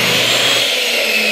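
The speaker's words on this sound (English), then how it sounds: "Now I'm going to plug the vacuum in and open my port." A VacuFlow central vacuum runs just after being plugged in, a steady loud whooshing motor roar with no breaks.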